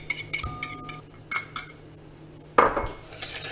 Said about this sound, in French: on va mélanger les jaunes d'œufs avec le sucre dans un